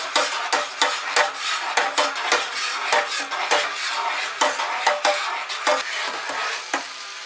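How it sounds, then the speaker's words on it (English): A big spoon swirls simmering water in a cooking pot, giving a steady run of close scraping and clinking strokes against the metal with a faint bubbling hiss underneath. "get a big spoon when your water is simmering and swirl it"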